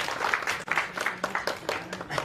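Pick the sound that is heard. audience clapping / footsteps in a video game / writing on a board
audience clapping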